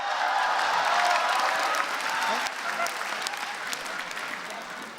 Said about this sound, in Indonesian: Sekali lagi tepuk tangan buat Popon Carol.